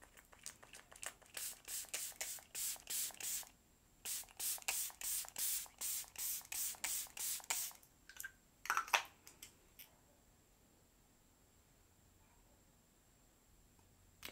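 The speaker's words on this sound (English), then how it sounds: "It looks like I sprayed white stuff all over my face." Makeup setting spray misted onto a face, a quick run of about twenty sharp, close hissing pumps in steady rhythm with a brief break, then a few rustles before quiet.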